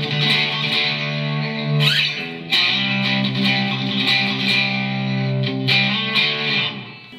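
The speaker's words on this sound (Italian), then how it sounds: "avevo messo un po' il gain alto per far sentire un pochino la distorsione" Electric guitar played through an amp head with the gain turned up for heavy distortion, thick sustained chords ringing out with a few pick scrapes and chord changes, alone without voices.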